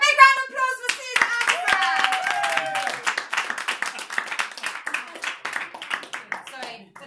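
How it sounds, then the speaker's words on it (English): Clapping and applause greet a speaker at a business networking event, a modest room of hands beating in uneven rhythm for several seconds, with a voice or two and some whistling over the top. "So big round of applause for Sezar."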